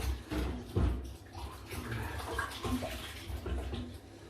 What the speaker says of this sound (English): Wash these hands